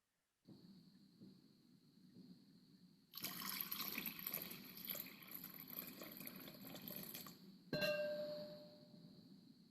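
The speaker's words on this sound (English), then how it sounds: "I invite you to pour water" Water is poured during a ceremony, a steady splashing stream that starts after a quiet moment and runs for several seconds, then a brief louder burst of pouring near the end, heard alone.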